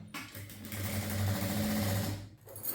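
A sewing machine runs a short continuous burst of stitching along a blouse lining, a steady mechanical whir close by that stops after about two seconds.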